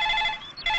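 A telephone rings with a bright electronic trill, close and clear, briefly dipping before the ring resumes, with no talk.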